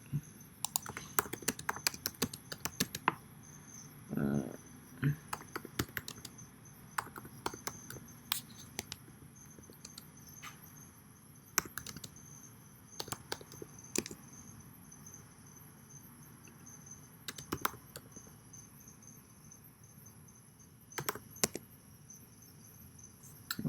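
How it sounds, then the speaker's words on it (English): Quick bursts of typing on a computer keyboard, close clicks coming in uneven clusters separated by pauses, over a steady background of insect or cricket chirping, with no talking. "Let me see if I can type it in real quick."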